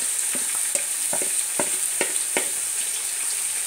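Browned onions with turmeric fry in oil for a Nepali fish curry, a bright steady sizzle broken by repeated scraping stirs of a spoon, close and fairly loud, with no voices.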